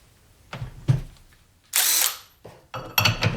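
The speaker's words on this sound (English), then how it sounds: "we'll see how this Harbor Freight Hercules 3/8 inch drive impact works" A Harbor Freight Hercules 3/8 inch drive impact wrench fires a loud, dense burst of hammering in the middle, set among short clicks and knocks of handling, with a shorter, choppier run near the end.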